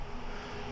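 A Ryobi CSB125 7-1/4 inch circular saw with a 13-amp motor runs steadily at full speed, a loud, continuous broadband motor whine with no pauses and no talk over it.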